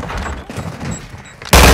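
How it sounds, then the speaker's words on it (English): Gunfire in Call of Duty: Modern Warfare II, a steady stream of distant shots and combat noise that ends in a loud, close burst of fire in the final moment. "Taking effective fire."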